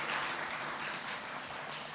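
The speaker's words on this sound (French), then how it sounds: "Je pense que vous pouvez les applaudir." An audience at a film festival closing ceremony applauds the event's service providers, a continuous even wash of clapping heard alone for a couple of seconds.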